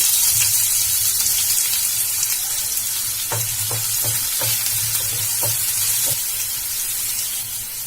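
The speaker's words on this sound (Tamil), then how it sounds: "வெங்காயம் வந்து லைட்டா வதங்கிடுச்சு" Finely chopped onion sizzles steadily in hot oil in a pan, a close, continuous frying hiss with a run of soft stirring scrapes and taps in the middle.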